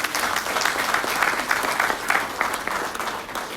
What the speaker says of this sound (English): Please help me give them a hand of applause.